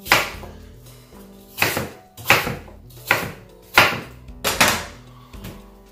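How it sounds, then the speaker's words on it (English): A knife chopping apples into small pieces on a cutting board, about eight sharp, close knocks in an uneven rhythm. "Remove the core. And then chop them up."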